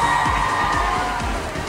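Crowd cheering inside a Barnes & Noble bookstore, a sustained wash of excited voices and whoops over a busy indoor background.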